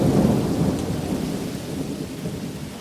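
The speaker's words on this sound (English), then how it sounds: "The rain hammers against clear story windows." Steady heavy rain beating down during a thunderstorm, with a low rumble of thunder that is strongest at the start and then fades under the constant downpour.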